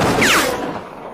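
A single loud gunshot in a Lucky Luke cartoon, a sharp close crack with a short ricochet-like whine fading quickly.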